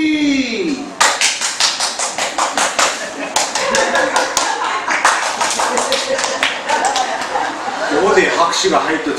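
An audience applauds during a spoken storytelling talk, with crisp handclaps coming in an uneven, fairly quick run for several seconds. A voice is heard briefly at the start and again near the end.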